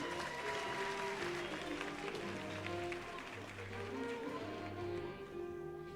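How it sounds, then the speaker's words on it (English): Audience applause fills an evening school-district employee awards ceremony as two second graders walk to the stage, a steady dense clapping throughout with a few faint voices mixed in. "Please give them a nice round of applause as they come."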